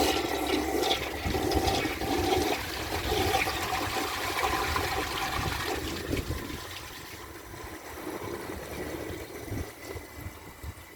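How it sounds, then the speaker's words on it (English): A 2002 American Standard Cadet toilet flushes with a loud, steady rush of water that roars close to the microphone for several seconds, then gradually thins out as the bowl refills. "So here is a flush"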